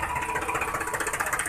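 A toy tractor's engine drones steadily with a fast pulsing mechanical buzz, continuous and fairly loud with no pauses, as the toy is driven along.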